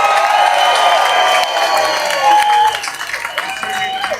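A crowd at a London march for the children applauds and cheers loudly and steadily, with whistle-like tones running through the noise.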